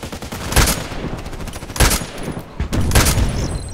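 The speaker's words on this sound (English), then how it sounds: "Three shots from that distance." Three loud, sharp sniper rifle shots in Contract Wars, evenly spaced about a second apart, each a sudden crack over a low background of game noise with no talk.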